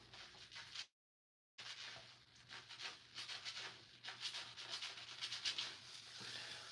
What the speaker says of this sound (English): I'm gonna rub it in.